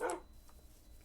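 A single short bark from a wolf in Minecraft, one sharp burst at the start that fades into quiet background hum.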